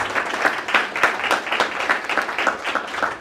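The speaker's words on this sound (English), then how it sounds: "Let's give her a round of applause." A church congregation applauds at a Sunday service, a brisk, fairly loud round of clapping from many hands with regular rhythmic peaks, heard alone without voices.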